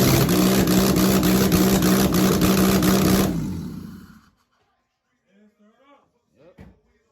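An Acura RSX engine in a DC2 chassis, fitted with a modified OEM RSX charge harness, idles loud and close with a steady pulsing rumble, then winds down and stops after about four seconds, followed by brief talk.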